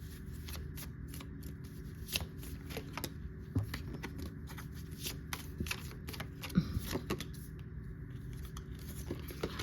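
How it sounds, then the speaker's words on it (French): Tarot-style cards being shuffled for a reading, a soft continuous riffling and flicking with scattered crisp snaps, faint and close, with no talking. "Allez, on va prendre quelques cartes par rapport à la notion de temps."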